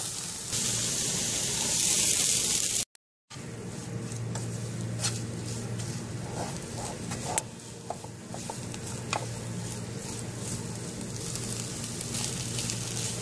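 Chicken frying with onions in a pan for samosa filling, a steady hissing sizzle with a steady low hum and scattered ticks and scrapes, close up, briefly cut to silence near the start, no talking.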